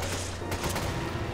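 AK rifle in the Resident Evil 5 video game firing a rapid, loud burst of overlapping shots that fills the brief moment with dense crackling reports.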